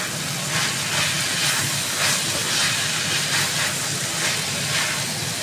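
Bitter gourd (ampalaya) sizzles as it is sautéed in a pan, a steady broadband hiss and crackle holding constant throughout with no talk.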